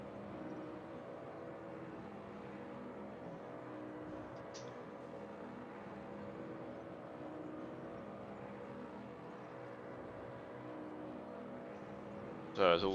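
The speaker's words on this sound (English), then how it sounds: "It appears to be a bug where there's a car revving in the pit lane." A steady drone of a car engine revving in the pit lane of a racing video game, a glitched constant hum that persists throughout at a low level, with a few brief clicks and a louder burst at the end.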